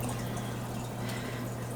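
Steady wet sucking and trickling of an aquarium siphon drawing water in a nano shrimp tank, a continuous close hiss with a low hum underneath, unbroken for the whole stretch.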